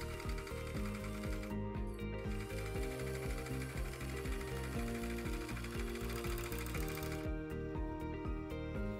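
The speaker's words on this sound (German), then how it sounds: "Nähe es mit der Overlock oder dem Overlock-Stich deiner Nähmaschine zusammen." An overlock sewing machine runs continuously, stitching hoodie seams in a rapid, even mechanical chatter, with brief pauses and slight changes in speed as the fabric is guided through.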